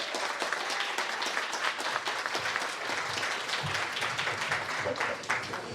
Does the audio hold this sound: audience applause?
yes